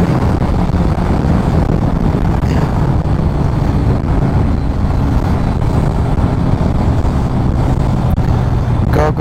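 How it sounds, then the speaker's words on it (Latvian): A BMW K1300S motorcycle engine runs in a steady, loud, continuous drone with a low rumble, close by and uninterrupted for the whole stretch, with wind noise mixed in and no talking. "Es tikai paklausīties, kā šitais mocis skan."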